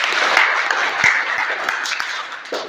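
Audience at a motivational seminar applauding, a steady, fairly faint patter of many hands clapping with a few louder individual claps standing out.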